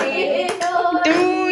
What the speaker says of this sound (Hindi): आप लोग ताली बजाइएगा और हैप्पी बर्थडे टोनी बोलिएगा